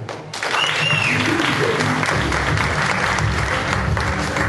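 An audience at a sarau poetry night in Heliópolis bursts into sustained applause, a dense wash of many hands clapping close by, starting almost at once and holding strong throughout.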